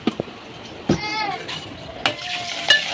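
Green chilli, onion, ginger-garlic paste, cloves, cardamom, cinnamon and mace fry in a pan for chicken korma, with soft sizzling under a few sharp clinks of a spoon and a voice talking.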